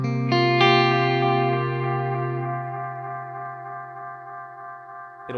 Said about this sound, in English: it'll give us that sort of endless delay sound